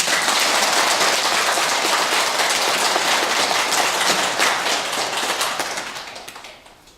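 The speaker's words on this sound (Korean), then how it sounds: "박수 쳐봐요." Audience applause at a Buddhist Dharma gathering, a dense wash of many hands clapping steadily and loudly, then thinning and fading toward the end with no talk.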